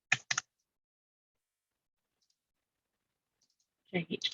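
Sharp computer mouse clicks while drawing a roof in SketchUp, two quick clicks close together followed by long silence, then another cluster of clicks at the end, near and fairly quiet.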